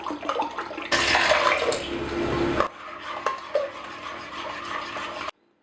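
Milk pouring into noodle kugel batter in a bowl, a dense sloshing pour for under two seconds followed by softer stirring and scraping sounds, close up.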